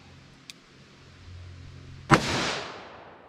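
.357 Magnum Underwood 125 grain round fired at an outdoor range, one sharp, loud crack after a faint tick and a low hum, with a long fading echo.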